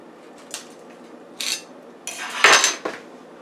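Pork tenderloin being turned over inside a Power Air Fryer Oven, giving a few sharp metallic clinks and clatters of tray and utensils, spaced out over a few seconds, with no talking.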